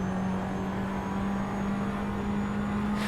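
A car engine in a racing video game powers out of a corner, holding a loud, steady droning note with little change in pitch for about three seconds, heard alone.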